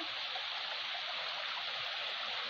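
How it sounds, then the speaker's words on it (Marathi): A natural forest waterfall stream pours in a steady, even hiss of rushing water, moderately close and continuous, with no voices. "एक नंबर असा धबधबा इथं वरती आहे।"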